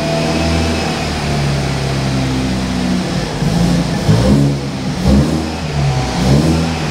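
A throaty BMW 220i M Sport engine revs repeatedly nearby, deep and loud, rising and falling in pitch with short bursts of throttle toward the end.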